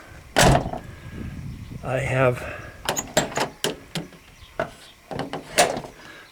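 A Ford truck door with loose hinges is pushed shut by hand, giving several sharp knocks and latch clicks spread across the stretch, close and moderately loud, with a person talking in between.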